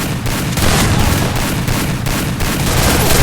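Video game gunfire crackles in rapid, nearly continuous bursts, loud and close, with short gaps between volleys.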